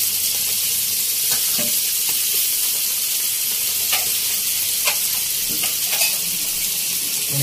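Nivtya fish fry in oil in a pan, Agri Koli style, with a loud, steady sizzle and a few scattered clicks and scrapes from stirring. No one speaks.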